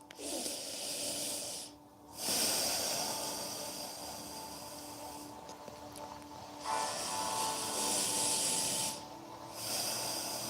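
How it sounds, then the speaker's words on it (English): Slow nasal breathing during a yoga session, soft airy inhales and exhales rising and falling in long steady swells, close and hushed with no talk over it. "breathing through your nose."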